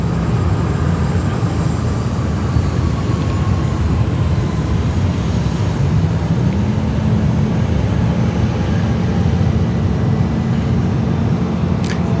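A Malindo Air Boeing 767 from Kuala Lumpur arriving at Sydney Airport, a loud, steady jet engine roar that holds throughout with a slowly shifting low drone.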